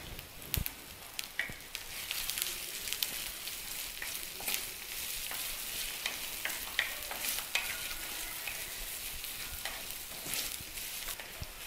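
A tempering of green chilli, chopped ginger and a little coriander sizzles in hot oil for curd rice, a steady close crackling hiss with frequent sharp pops and spits throughout, no voices.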